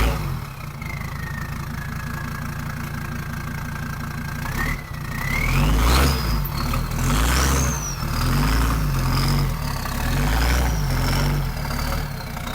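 A truck engine runs at idle through its stock exhaust, a low steady rumble that swells with a few light revs in the second half, with a faint whine drifting over it.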